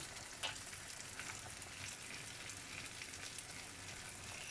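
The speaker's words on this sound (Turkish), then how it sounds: "Birazcık zeytinyağında soğanımızı şöyle bir kavuruyoruz." Onions sauté in a little olive oil, giving a soft, even sizzle and crackle that runs steadily throughout, with faint background clatter.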